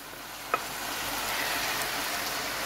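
Chopped tomato dropped into a pan of browned onions for a cauliflower chakchouka, giving a short tap then a steady, moderately loud sizzle that holds evenly to the end, with no talking.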